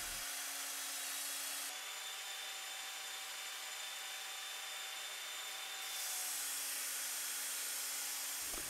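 Work Sharp belt knife sharpener running continuously with a P120 coarse grit belt at speed setting 6, giving a steady motor whine and a loud abrasive hiss that swells as the blade is pressed to the belt.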